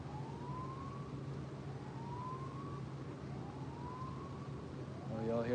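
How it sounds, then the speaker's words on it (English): Emergency vehicle sirens wail in the distance, rising in repeated sweeps over a steady low background rumble, faint and far off, with a louder passing noise near the end. "y'all hear them sirens?"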